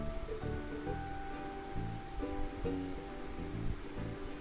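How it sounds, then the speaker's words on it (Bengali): Puffed rice (muri) is washed by hand in a bowl of water, giving soft repeated swishing and sloshing with light rustling, close and moderately quiet, with no talking. "এবার ভালো করে মুড়িটাকে ধুয়ে নিচ্ছি।"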